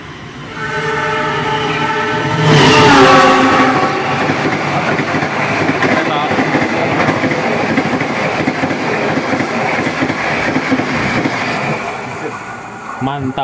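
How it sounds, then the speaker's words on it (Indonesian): A train roars through a station at speed without stopping, a loud horn blast near the start, then steady rumbling and clatter of wagons passing close by. "Dua dari barat akan segera melintas langsung."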